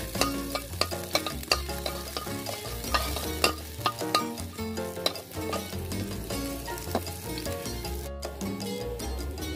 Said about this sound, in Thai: ตั้งกระทะนะคะใส่น้ำมันแล้วก็ใส่กระเทียมลงไปนะคะเจียวกระเทียมให้หอมนะคะ